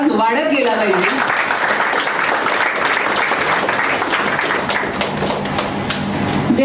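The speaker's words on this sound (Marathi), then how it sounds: "पुस्तक हातात घेताना आणि ओळख होताना टाळ्यांचा आवाज वाढत गेला पाहिजे" Steady audience applause fills a book lovers' gathering in Lonavala, a dense continuous patter of many hands that holds at an even level throughout, with a brief voice heard near the start.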